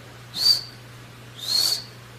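Voice imitating kingfisher chicks calling to their mother: two high, thin whistles about a second apart, close and clear over a faint low hum.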